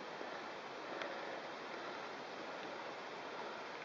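Dry bread being soaked under running water, a steady broadband rush of flowing liquid close by with no talking.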